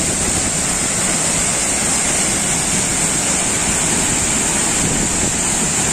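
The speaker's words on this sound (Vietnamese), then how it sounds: "Và đây dòng suối sau khi thác đổ xuống thì nó ra đấy." The Bat Cave waterfall (Thác Hang Dơi) in Kbang, Gia Lai, crashing onto huge rocks, a loud, dense, unbroken roar of falling water close to the listener, with no voices.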